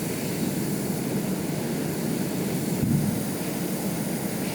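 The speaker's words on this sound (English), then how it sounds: "At an incredible speed, the aircraft lowered its throttle" Aircraft in the game Stormworks throttling down, a steady broad engine roar with no distinct change, continuous and fairly loud, no talk.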